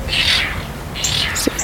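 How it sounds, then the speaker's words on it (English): Cactus wrens scolding in a Baja California backyard near a bird bath in the evening, harsh raspy chattering bursts at moderate distance, one early then a few more later with a brief sharp call. "I think that might be the cactus wren having a little bit of a scold."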